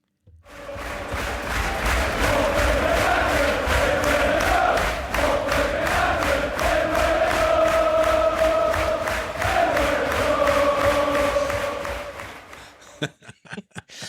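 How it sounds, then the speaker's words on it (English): A huge football crowd at a Luton v Watford derby sings a chant in unison, a loud, sustained wall of voices with rhythmic claps, swelling for over ten seconds before breaking off. "the whole crowd started singing that towards injury time"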